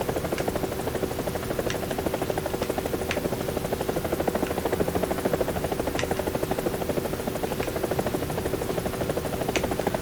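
A War Thunder helicopter engine and rotor sound steady and loud, the rapid rotor chop pulsing evenly with the turbine hum behind it and a few faint clicks.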